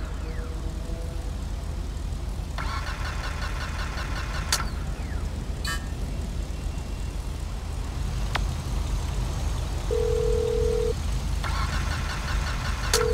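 A mobile phone ringtone in the game GTA 5 plays in repeated bursts of a bright electronic tone, heard over the steady rumble of a car engine and road noise, with a couple of short clicks.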